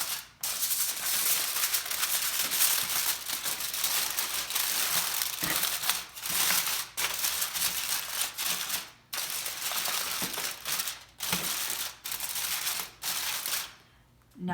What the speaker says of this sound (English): we're just going to very loosely just crumple it over the edge